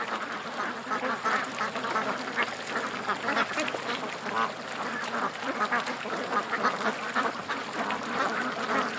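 Ducks quack steadily and close by, a busy, continuous run of calls with splashing and slurping as they drink water.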